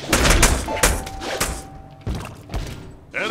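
Gunfire from the Deadpool video game: loud repeated shots and heavy thumps in irregular bursts, each with a short ringing tail. No one speaks over them.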